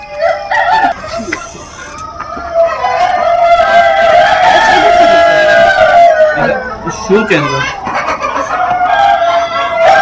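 Six-month-old free-range breeder hens cluck and call continuously and close by inside a farm shed on a large chicken farm in Pakistan, with some crowing-like calls among the flock.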